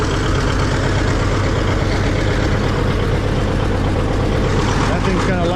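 A loud antique tractor engine runs steadily on LP gas, a heavy low chugging drone that holds constant throughout without pause.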